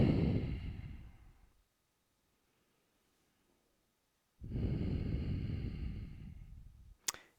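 Two long, deep breaths are taken close up during a yoga pose while kneeling and seated back on the heels. Each is a slow, airy rush separated by near silence, and a single sharp click comes at the end.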